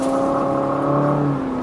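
Smooth, steady hum of a 2020 Infiniti QX50's 2.0-litre turbocharged four-cylinder engine heard from the cabin on a road test, a continuous drone with faint whirring tones and no talk.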